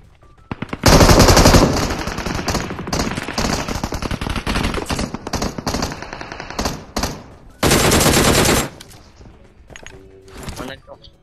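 FAMAS rifle fire in a battle royale video game, loud close bursts of rapid automatic shots in several strings over about eleven seconds, with in-game effects and some teammate chatter mixed under it.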